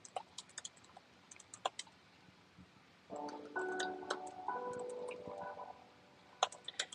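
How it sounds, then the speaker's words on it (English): Keyboard typing during a livestream: quiet, irregular bursts of clicking keys at the start and end, with a steadier tonal sound filling the middle stretch. "gonna type some words"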